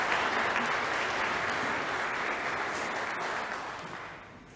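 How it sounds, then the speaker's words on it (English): A church congregation at a Sunday morning Eucharist gives a full round of applause, a thick continuous roar of clapping that holds steady and then fades gently at the close. "Give them a round of applause"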